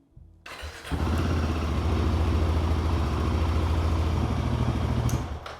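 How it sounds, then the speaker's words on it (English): A Royal Enfield Himalayan 450 motorcycle fires up after a brief click and settles into a steady, loud, close idle for several seconds before cutting off. "turn the key on, listen to the fuel pump cycle, and then start the bike"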